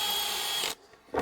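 A power drill whirs steadily as it bores into a plastic bivvy table with a cardboard core, then cuts off, leaving near silence before a short burst of scraping.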